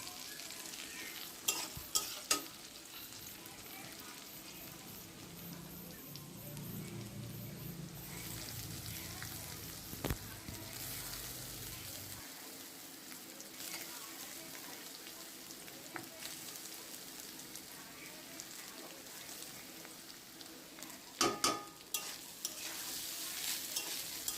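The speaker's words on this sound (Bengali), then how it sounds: "ভাতগুলোকে দেখো খুব সুন্দর নাড়াচাড়া করে ভেজে নিয়েছি" Cooked rice with carrot and capsicum is stir-fried in a pan for egg fried rice, a constant soft sizzle beneath repeated scraping and clanking of the spatula, with a few sharper knocks at the start and near the end.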